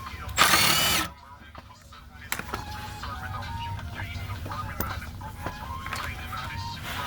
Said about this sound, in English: I'm taking out these bolts right here.